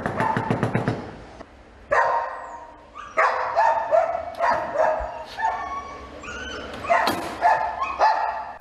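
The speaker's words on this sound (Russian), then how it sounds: "Около 10 собак, как говорят люди, лают круглосуточно." Roughly ten dogs bark and yip repeatedly inside a small one-room apartment, a loud, overlapping run of barks with brief whimpers between bursts, close and echoing in the cramped space.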